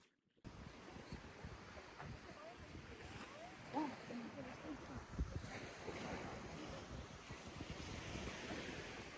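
Sea surf rolls onto the beach at the JW Marriott Phuket resort in Thailand, a continuous washing roar mixed with heavy wind buffeting the microphone.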